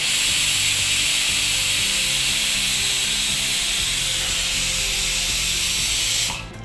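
Steam from a pressure cooker cooking chicken pulao rushes out in a loud, continuous hiss for several seconds, then cuts off abruptly near the end, with no talking.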